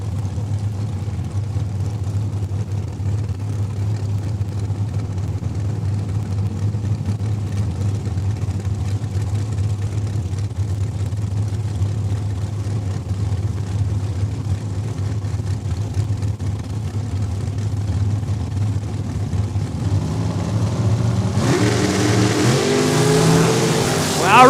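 Bantam Altered and a dragster at a drag race at Saskatchewan International Raceway, Saskatoon: a long, steady low engine rumble holds at the line, then swells into a rising, louder roar in the final seconds.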